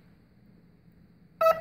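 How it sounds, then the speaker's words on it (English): RC plane's electronic speed controller gives a short loud beep burst after a stretch of quiet low hum, signalling that no receiver signal is coming through. "Still no signal from the receiver. That's why the plane's beeping."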